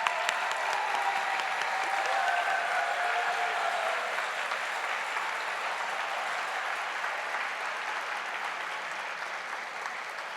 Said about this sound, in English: I hear a lot of applause for the PTA